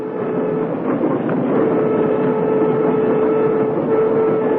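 A commuter train sound effect from a 1977 radio mystery drama rumbles steadily with a faint clickety-clack and a low whistle-like hum, loud and continuous throughout.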